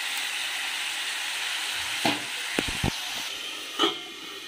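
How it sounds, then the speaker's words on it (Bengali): Snake gourd fries in hot oil tempered with dried red chilli and black cumin, giving a steady, moderate sizzle broken by a few short clinks of stirring, with no talk. "দিয়ে চিচিঙ্গে ভাজা করছি।"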